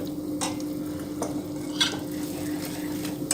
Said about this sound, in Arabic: تنبقى نحركها هكا حتى الجوانب باش ما نخليهمش